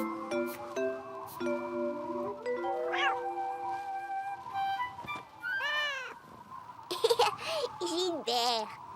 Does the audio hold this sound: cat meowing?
yes